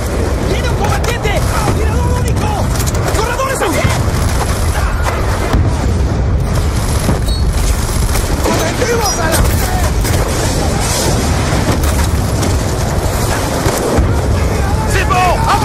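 Machine-gun fire and explosions from a Call of Duty Black Ops 2 firefight at Menendez's estate: dense, continuous loud bursts and booms throughout, with voices speaking over the din.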